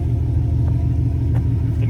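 Toyota Supra with a CSF Race X intake, its engine running rich: a close, steady deep rumble that holds level throughout, with no voices.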